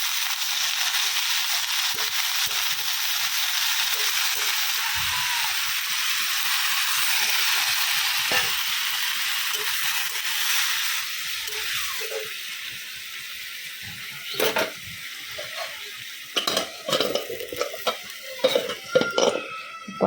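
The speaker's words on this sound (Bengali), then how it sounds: "এবার হচ্ছে নাড়াচাড়া করে একটু জল দিয়ে ঢেকে দেবো।" Food with salt and turmeric stirred in a hot pan: a continuous sizzle at first, then irregular scraping and clattering strokes of the spoon against the pan toward the end, close by.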